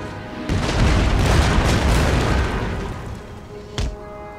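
Artillery fires in Empire: Total War, a heavy booming blast that swells and rumbles for several seconds before tailing off. A second, shorter thud lands near the end, with no talking.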